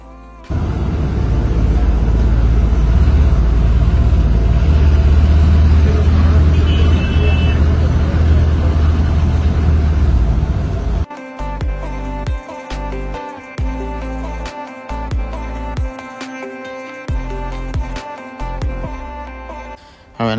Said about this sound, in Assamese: আৰু এই ৰঙা বাছখন হ'ল CNG বাছ